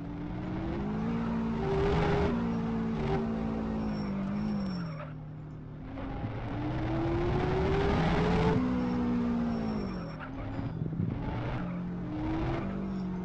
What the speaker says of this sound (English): I'm driving really fast now.